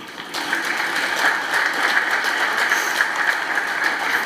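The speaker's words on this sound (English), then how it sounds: "along with her amazing doctor, Yannick Henry, please give them a round of applause" A memorial gathering applauds the hospital pediatrics and maternity team with a steady round of clapping from a crowd, sustained and moderately loud throughout, with no voices over it.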